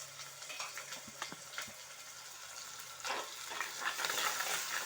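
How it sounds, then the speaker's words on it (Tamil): Onions sauté in a pan for a fish curry, giving a soft, steady sizzle with occasional stirring scrapes, fairly quiet and with no talking. "பாருங்கள் ஆனியன் எவ்வளோ அழகாக வதங்குதுன்னு."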